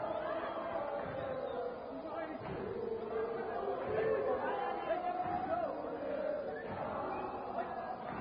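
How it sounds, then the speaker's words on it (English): A crowd at a kickboxing world title fight chatters and shouts in support of a fighter, a steady, rough roar with bursts of cheering throughout, while a commentator talks over it. "A very patriotic crowd there trying to support this man, Mdunana."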